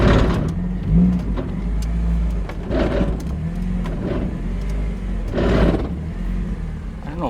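A Miata with an EcoTec engine swap and a newly installed Torsen differential chatters while driving, giving repeated rough bursts over a low, steady engine drone from inside the car.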